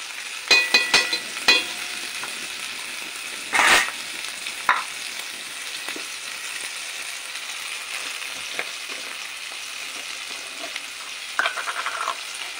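Crushed ginger and garlic hit hot oil in a frying pan while a soybean curry is being cooked, giving a soft, steady sizzle with a few sharp clatters of stirring near the start and middle.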